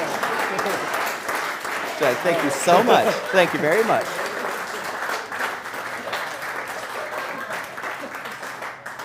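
Audience at a live stage event applauds steadily through the clip while a man on a microphone speaks over the clapping, which gradually fades.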